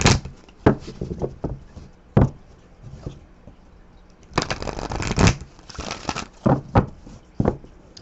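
Tarot cards being shuffled by hand, a series of crisp riffling bursts and soft slaps at close range, with busier stretches of rapid flicking between quieter pauses.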